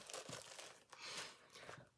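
Crisp crinkling of thin plastic, rustling in quick bursts close by for a couple of seconds, with no voices.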